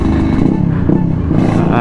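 Sonic 150cc motorcycle engine revving loudly close by, a rough throbbing low growl with slight surges in throttle, heard alone without talk.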